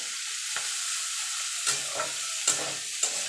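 Bitter gourd frying in a pan gives a soft, even hiss, broken by a few sharp clinks and scrapes of stirring spaced about half a second apart, close by and with no one talking.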